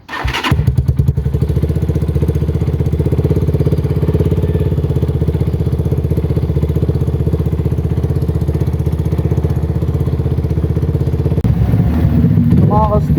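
A Loncin GP 250 motorcycle engine starts up and idles with a steady, loud, close rumble, warming up for over ten seconds without a break.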